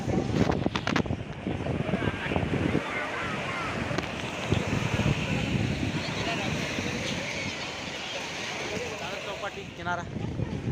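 Cool wind gusts across Dadar Chowpatty beach, a broad steady rush buffeting the microphone, with the wash of the sea behind it and voices now and then.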